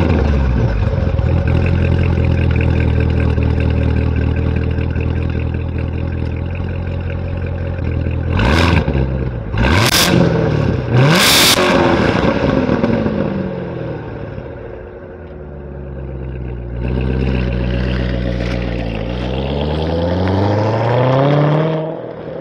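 A 650-horsepower 2016 Corvette Z06 with a manual gearbox drives and revs hard, its engine droning steadily, then climbing through several sharp rising revs and a dip before pulling strongly again; loud and close throughout with no talk.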